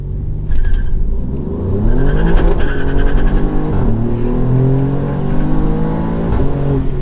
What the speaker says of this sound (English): Basically, you just floor the gas and the brake, and it will do its own kind of launch.